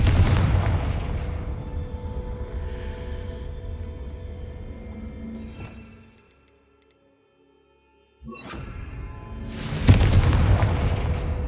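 Confringo blasting spell explosions in the video game Hogwarts Legacy: a loud booming blast rolls into a long rumbling decay, then after a brief silence a second heavy burst hits near the end.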